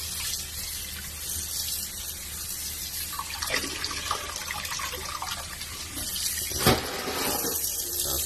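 Water runs steadily into a pot as bladderwrack seaweed is washed, a continuous hiss of tap flow with a few brief splashes and sloshes, close and moderately quiet.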